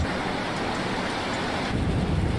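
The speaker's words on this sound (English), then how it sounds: "We're going through another rainstorm here in Florida." A Florida rainstorm with thunder in Microsoft Flight Simulator, heard from a Boeing 737 MAX approaching Boca Raton: a dense, steady roar of rain, with a deeper rumble swelling near the end and no speech.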